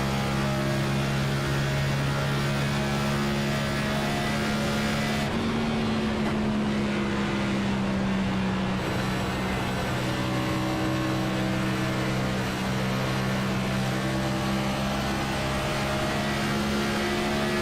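Onboard engine of the number 21 race car lapping Texas Motor Speedway, a loud steady high-revving drone that holds and then shifts pitch through a gear change, sustained with no voices.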